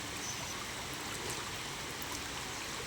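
Floodwater runs through a rice paddy with a soft, steady gurgling rush, a continuous low trickle of moving water heard alone without voices.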